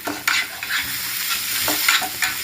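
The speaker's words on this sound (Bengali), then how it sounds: "কাঁচা লঙ্কাটা দিয়ে আমি একটু ভালোভাবে মশলার সাথে মাখিয়ে নিচ্ছি" Four green chillies are stirred into spices in a hot pan, giving a steady close sizzle broken by the rhythmic scrape and tap of a spatula, with no voices.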